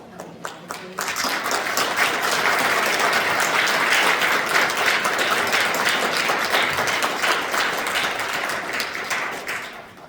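Audience at an AAPI policy and advocacy forum breaks into sustained, loud applause, dense clapping that builds quickly after a brief start and holds for several seconds before tapering off.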